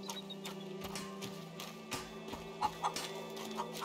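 Chickens cluck in the video game A Plague Tale: Innocence, short scattered clucks near a farm and stables over steady ambient game sound and low hum.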